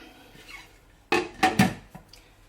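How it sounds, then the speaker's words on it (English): A lid clatters onto a slow cooker crock: a few close, bright clanks and rattles in quick succession, then a soft settling knock, in an otherwise quiet kitchen. "let's get the lid on this lad"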